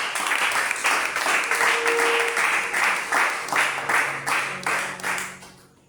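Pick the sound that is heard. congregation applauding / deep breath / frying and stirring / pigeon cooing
congregation applauding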